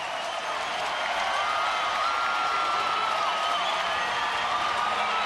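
At a San Francisco Giants versus Cincinnati Reds baseball game, a big stadium crowd roars and cheers continuously at full, dense volume, a steady wash of noise with rising whistles and shouts on top.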